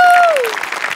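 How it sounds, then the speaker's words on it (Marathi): A short burst of studio audience clapping at a Marathi comedy show, following a bright descending tonal whoosh at the very start; the patter of hands is brief and moderately loud. "मोठ्यांसाठी एकदा जोरदार टाळ्या"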